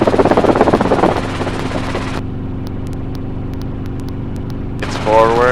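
Helicopter during a training lesson on the runway, a steady engine whine and rotor hum that is loud and dense at first, then muffled and constant, with voices near the end.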